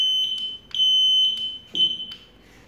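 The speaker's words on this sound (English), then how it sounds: "it is giving the buzzer" A shrill electronic alarm from a Subzero SZ-7524P digital temperature controller buzzes in three sustained bursts with short gaps, loud and close, with a faint click or two between.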